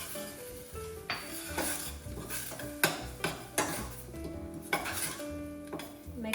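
A utensil stirs onions, garlic and herbs in a pan, with repeated metallic scrapes and clinks against the pan over a soft sizzle, close and fairly quiet, no talking.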